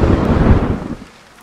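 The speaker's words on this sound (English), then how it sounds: "Oh, it's raining." Thunder with rain in a Roblox story game: a loud, close low rumble rolling over rain noise for about a second, then fading quickly into quiet.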